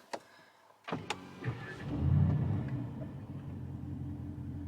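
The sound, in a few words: car engine starting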